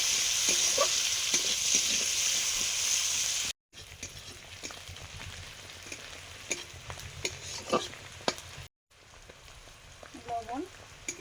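Chopped onion sizzles and spits in hot oil for a prawn and pointed gourd curry, with a loud frying hiss at first, then quieter crackles and stirring scrapes after short breaks, and faint voices in the background.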